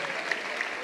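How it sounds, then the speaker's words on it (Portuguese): Church congregation applauding, a brief, even wash of steady clapping at moderate distance with no voices on top. "Aplauda ele com alegria"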